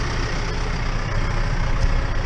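Case IH T6020 tractor engine idling on a dairy farm, a steady low diesel rumble with broadband mechanical noise, close and continuous.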